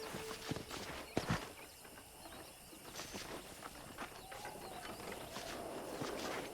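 Horse hooves clip-clop at a steady walking pace, moderately close, over a faint outdoor background with occasional bird calls, in the video game Red Dead Redemption.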